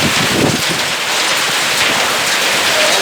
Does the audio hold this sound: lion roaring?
no